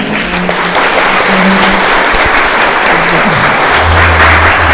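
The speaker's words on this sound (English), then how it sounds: "Can we give a round of applause, please?" A town hall audience gives a steady round of applause, dense and continuous throughout, with a low hum and faint murmur beneath.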